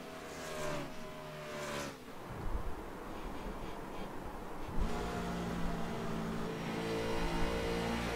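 Onboard race car engine droning steadily, pitch rising and falling with gear changes and throttle, loud and continuous throughout.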